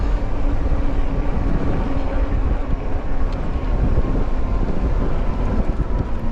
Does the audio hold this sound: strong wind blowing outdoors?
yes